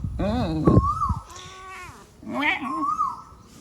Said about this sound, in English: This is our tiny cat.